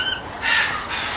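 Caged exotic parrots give short, harsh squawks in two close bursts, fairly loud and nearby, with no talking over them.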